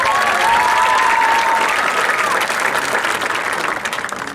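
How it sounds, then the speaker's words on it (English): Loud, sustained applause from a rowdy audience at a high school commencement ceremony, a dense wash of clapping that holds steady throughout and tapers slightly toward the end. "I can tell this is a rowdy crowd and you're going to clap anyway, so clap away."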